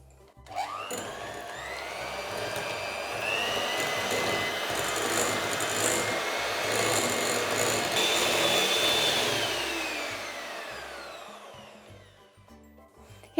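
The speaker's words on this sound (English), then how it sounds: "I'm going to mix this together for about 5 minutes." An electric mixer whirs steadily while beating soft butter into a pale buttercream for a raspberry and white chocolate traybake. The motor hum is continuous and fairly loud for about twelve seconds with no talking, then cuts off at the end.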